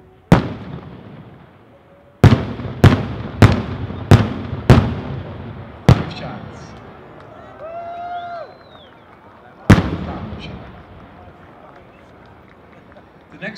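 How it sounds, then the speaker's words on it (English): A 6-inch three-break firework shell at a fireworks showcase fires sharp, echoing reports, several in quick succession and then a later one, with crackling and faint whistles between and a few people talking nearby. "The next shell is going to be a 6-inch 3-break with 5-time reports to a Fukasha and Blue"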